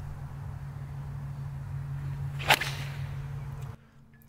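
A single sharp, whip-like crack of a driver striking the ball on a tee shot on a 355-yard par 4 during a golf round, heard once mid-clip over steady low outdoor background hum.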